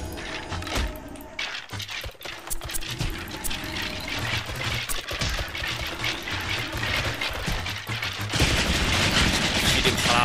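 In the Mini World video game, an army of archers attacks a sea boss, producing dense, rapid rattling and clicking volleys of mechanical, gunfire-like bursts that continue loudly throughout.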